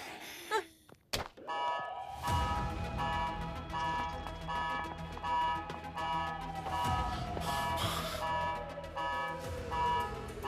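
An electronic alarm beeps in a steady repeating pattern for several seconds, preceded by a few sharp thuds, ringing over a droning background in a dramatic scene.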